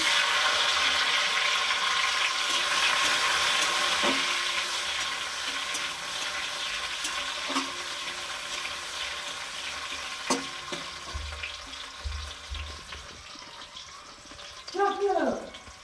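Chopped tomatoes dropped into hot oil with whole cumin, dried red chilli and bay leaf, giving a loud steady sizzle that fades as they settle, with occasional clinks of a spoon stirring in the pan.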